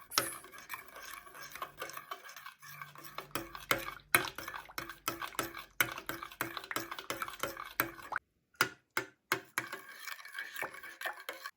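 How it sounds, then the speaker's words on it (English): A spoon stirs full-fat milk with curds in a bowl, making repeated clinking, scraping taps against the bowl with soft liquid sloshing, close and fairly quiet, with a few brief pauses. "Give it a good mix."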